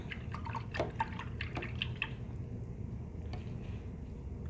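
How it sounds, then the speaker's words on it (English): A paintbrush loaded with acrylic paint is rinsed in a water cup, giving soft drips, swishes and small liquid taps, busiest in the first two seconds and then fading to quiet trickles close by. "I do rinse my brush out because it's turning green"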